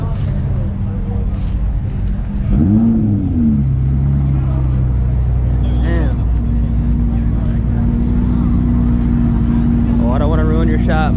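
A McLaren 720S supercar drives past at a car meet with a loud, steady engine drone and a brief rising-then-falling pitch sweep near the start, while people talk nearby.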